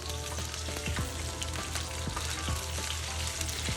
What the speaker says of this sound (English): So now we're gonna start flipping our salmon.